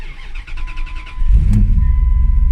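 A car engine cranks over with a brief whine, then catches and roars into a loud, steady rev close by.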